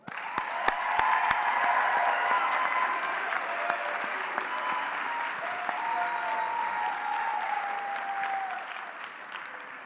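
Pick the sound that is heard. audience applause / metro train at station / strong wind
audience applause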